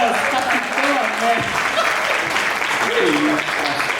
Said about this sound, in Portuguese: Ó, salva de palmas, Capitão